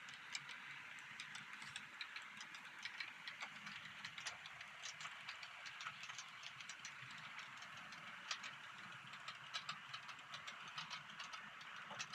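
Model train wagons with all-steel wheels roll smoothly along a layout track, a faint steady rumble dotted with quick light ticks as wheels cross rail joints, continuing throughout.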